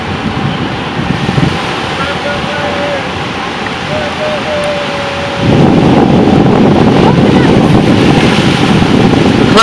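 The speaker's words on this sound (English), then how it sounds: "Look at them waves" Ocean waves roll in San Diego with steady wind rumble, the surf growing louder and rougher partway through, with a faint engine tone for a while.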